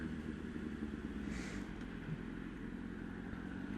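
A motorcycle ridden during a full UK bike test, its engine a steady, fairly distant drone with no clear revving and no talking.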